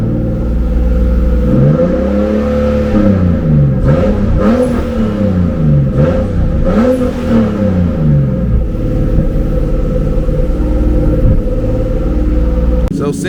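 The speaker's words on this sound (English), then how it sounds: "I'm gonna rev it, see what happens." A turbocharged BMW E36 engine running lean with high fuel pressure, loud and close, rises through several rev swells from a rumbling idle and settles back.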